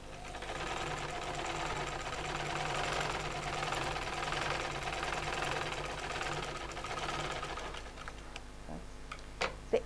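A sewing machine runs steadily while stitching salwar fabric, a continuous fast mechanical whirr close by, ending in a few sharp clicks as it stops.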